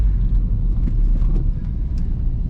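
A VW MK3 with a swapped 1.8T engine doing a burnout, its exhaust a loud, steady, low rumble held close and continuous throughout, with no voices.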